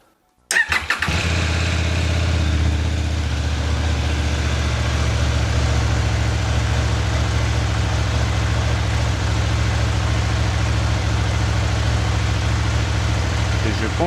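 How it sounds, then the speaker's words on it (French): A motorcycle engine cranks and catches after a short silence, then settles into a loud, steady, throbbing idle that runs unbroken to the end, heard close up. "Donc là, je vais démarrer la moto."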